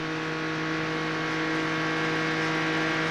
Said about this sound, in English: The throttle runs it all the way around the racetrack, wide open.